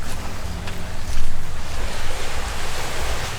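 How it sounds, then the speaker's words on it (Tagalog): Ocean surf rolls and washes continuously nearby, mixed with gusty wind buffeting the microphone, loud and broadband with no talking. "Ito kami ngayon sa dagat."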